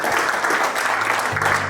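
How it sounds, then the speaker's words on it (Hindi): Applause greeting a speaker joining the stage at a Blockchain Community India event, a dense, continuous burst of clapping heard close and loud, with faint talk underneath. "सर के लिए एक बार जोरदार तालियां हो जाए"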